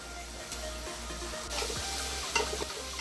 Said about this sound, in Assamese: গোটেইখিনি বস্তু আমি একদম কম জুইত ভাজি ল'ম।